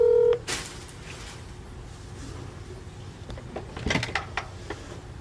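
A phone dialing out and ringing unanswered: a short tone at the start, then quiet room noise with a few faint clicks and taps, no voice picking up.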